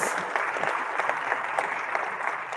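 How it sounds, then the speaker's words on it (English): Audience applause at a fintech outlook report launch event in Ghana: a dense, even wash of many hands clapping, sustained throughout without a break. "One more time, ladies and gentlemen, a round of applause."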